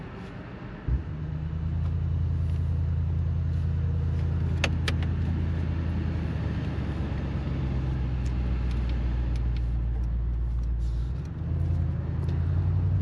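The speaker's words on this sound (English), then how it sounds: "Hold on the downshift, the brakes, to hear that V8 sound experience." A 2025 Mercedes-AMG GLS 63 with its 603 hp handcrafted V8, set to Sport Plus, kicks in with a thump and then holds a deep, steady exhaust rumble that dips briefly near the end.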